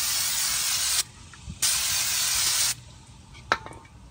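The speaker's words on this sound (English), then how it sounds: "Now we're gonna hit this with some brake clean." An aerosol can of brake cleaner sprays onto car brakes in two long, close hissing bursts, with a short sharp spritz near the end and faint clicks between.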